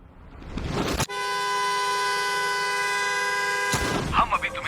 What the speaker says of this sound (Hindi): अगर तुम सब बाहर जाकर अपनी कार का हॉर्न लगातार बजाते हो